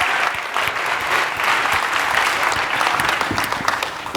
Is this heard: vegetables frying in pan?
no